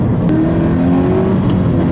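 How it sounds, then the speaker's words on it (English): A Toyota GT86 engine revs with a steady, loud, close mechanical drone and a rising whine running through it, with no voices. "In the noise stakes, the 86 has the WRX beaten hands down"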